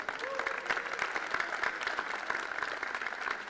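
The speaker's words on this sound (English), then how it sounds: "Give a big hands of applause for Karim Belac." An audience at a world teams billiards championship final claps steadily for a guest, a dense, even patter of many hands heard fairly near, with a voice briefly over it at the start.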